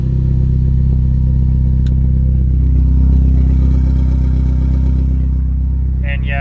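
Audi TTS fitted with a valved dump-pipe, idling loudly with the valve opened, giving a heavy, steady low rumble that fills the clip at close range, with a short clatter and a brief voice near the end.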